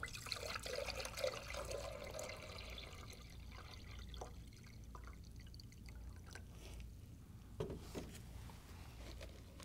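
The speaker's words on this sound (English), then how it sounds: "And now I'm going to go ahead and pour in 1 liter of water." Water being poured into a container, a faint close trickle and splashing that runs steadily before tapering into a few drips.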